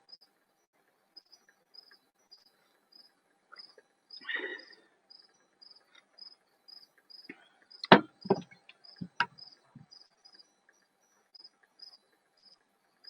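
Crickets chirp outdoors in a steady, evenly spaced series of short high pulses that carries on throughout, with scattered thumps and knocks and a brief rustle in between.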